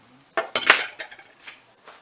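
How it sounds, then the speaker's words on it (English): A plate grabbed in a kitchen while making banana bread, heard as a few quick close ceramic clinks and clatters followed by lighter taps. "let me grab another plate."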